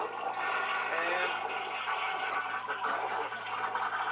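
A toilet flushes with a steady rushing of water for several seconds, heard close and continuous while a voice talks over it.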